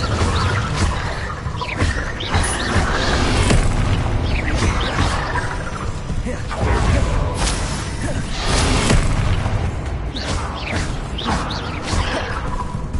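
Continuous fire-spell casting in Hogwarts Legacy, a dense stream of roaring flame bursts, whooshes and booming impacts layered over game noise, loud and close with no pauses.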